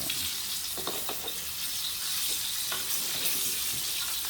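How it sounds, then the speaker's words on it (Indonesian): Tofu frying and being stirred in a wok for fried rice, a continuous loud hissing sizzle with scattered scraping clicks from the stirring, no voices. "Ini tahu yang sedang digoreng, yang menjelang masak, masih dikacau di kuali."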